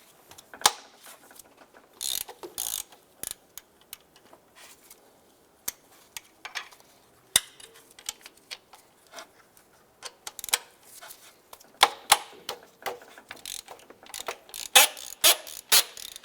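Ratcheting wrench clicks loosen a 15mm alternator bolt and nut on a 2011-2019 Ford Fiesta, close and fairly quiet, coming in irregular bursts of sharp metallic pawl ticks separated by short pauses.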